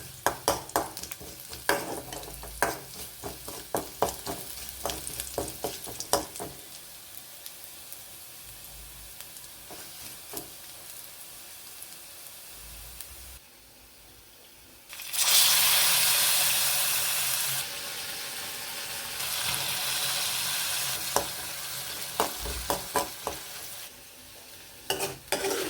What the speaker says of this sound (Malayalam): ഉലുവയും കടുകും ഉള്ളി കൂടി മൂത്ത് വരുമ്പോൾ നമുക്ക് കറിക്ക് ഒഴിച്ചു കൊടുക്കാം